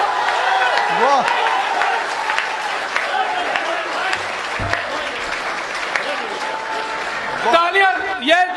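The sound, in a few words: audience applause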